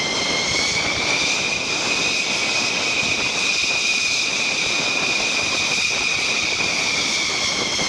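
An F-15 fighter jet engine roars in a steady, loud, continuous whine and rush that holds unchanged throughout, with no voices.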